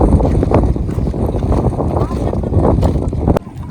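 Strong wind gusts blowing outdoors in a forest near Bhavanishagar Dam, a continuous loud rushing buffet with microphone wind noise throughout.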